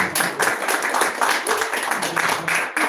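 Audience clapping at a poetry reading in Tucson, a dense, close crowd applause that continues evenly for about three seconds.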